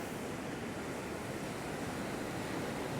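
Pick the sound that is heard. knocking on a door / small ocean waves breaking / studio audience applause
small ocean waves breaking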